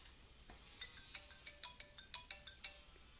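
A phone ringtone plays an incoming confirmation call for a hosting account, a bright repeating melodic chime pattern of about ten short notes, close and clear with no talk.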